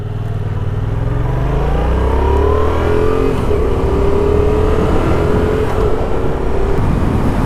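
A 2019 Yamaha XSR700 motorcycle accelerates hard along a street, its engine note climbing steadily through the gears, loud and close throughout with a continuous droning roar.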